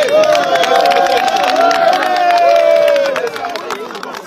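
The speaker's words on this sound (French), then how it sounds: "Applaudissez." An outdoor crowd at a political gathering with a minister present cheers and claps, loud and sustained, under voices and a long wavering shout, then tapers off toward the end.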